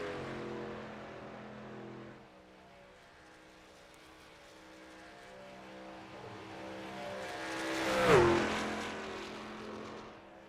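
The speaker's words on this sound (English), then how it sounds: "So I see that 13 truck making his way around the racetrack" Race trucks from the iRacing truck series circling Daytona, a steady engine drone with a louder truck sweeping closer and past near the end, fairly faint overall with no talk.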